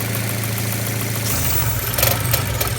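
Audi engine with the oil cap removed running rough at idle, a steady low drone that turns uneven and stumbling partway through, close and fairly loud, with no talking.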